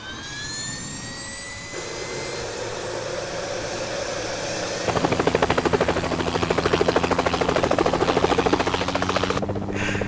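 A helicopter flies in the video game Helicopter Simulator 2014, giving a steady turbine whine. Partway through it changes to a loud, rapid, pulsing rotor chop that continues to the end.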